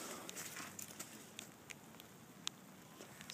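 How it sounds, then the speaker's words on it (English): Light rain begins falling outdoors on a frozen lake during ice fishing, soft scattered patter with occasional crisp ticks of drops landing nearby, faint and close, no talk. "Starting to rain."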